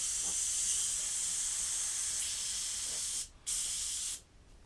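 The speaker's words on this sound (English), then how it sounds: "Let's just spray this out and be done with it." An aerosol can of spray paint hisses in a steady, loud, continuous burst for about three seconds, cuts out briefly, then sprays again before stopping, with no talking.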